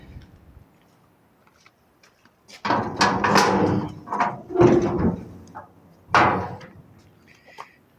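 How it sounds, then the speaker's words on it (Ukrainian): The side board of a 1PTS-2 farm trailer is opened with a run of loud metallic clanks and knocks, several separate bangs spaced over a few seconds, near and sharp. "Боковий борт відкривається."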